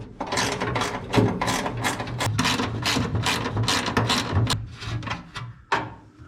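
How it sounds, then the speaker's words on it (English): Rapid, close ratcheting clicks from a spanner as a 12-volt two-speed wiper motor is fitted on a lead sled hot rod, a steady run of mechanical clatter with a brief pause near the end. "Hang on, I just got to get a spanner."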